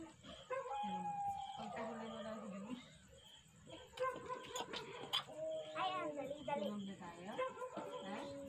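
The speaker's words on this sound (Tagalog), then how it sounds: "Umuungol na yung aso." A dog howls at night during a power outage, drawn-out wavering cries rising and falling in several long bouts, moderately distant, with a person talking over parts of it.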